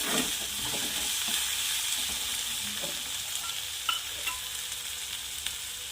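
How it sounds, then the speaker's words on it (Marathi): Ginger and garlic frying in a pan for spicy vermicelli upma over medium heat, a steady close sizzle with occasional light stirring clicks, no talking. "थोडं अद्रक आणि लसण आहे हे पण पकू द्यायचं याच्यामध्ये"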